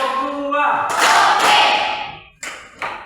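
A voice speaks briefly before a classroom of students in an Islamic religious education lesson claps together in an ice-breaking clap game, giving a few loud, dense group bursts with short gaps between them.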